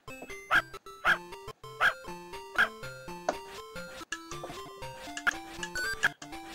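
Dog barking from a Sega Pico game, a run of short synthesized barks in a steady bouncy rhythm set over a bright chiptune melody, loud and close with no talking.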